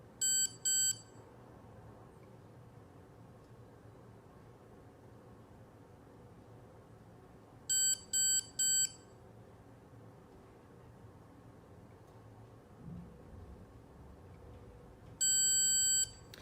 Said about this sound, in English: With that longer beep, the treatment is now complete.